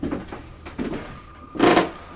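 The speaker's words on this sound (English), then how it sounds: "Did you hear the door?" An interior house door bumps shut with a short, fairly loud knock near the end, after a few softer thuds and creaks, in a quiet room.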